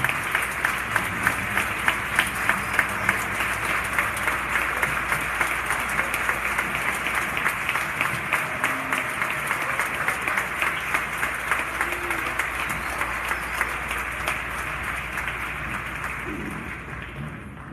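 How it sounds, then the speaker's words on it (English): A crowd gives sustained applause for alumni and coaches at a basketball ring ceremony, dense clapping holding steady for many seconds before gradually tapering off. "I'd like to give everybody a big round of applause for all the alumni and the coaches that are here."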